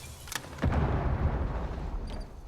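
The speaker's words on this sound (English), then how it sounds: "And we've got gunfire." Gunfire and explosions in the video game Rainbow Six Siege: a brief sharp shot followed by a heavy boom that rolls out into a fading rumble, with no talking.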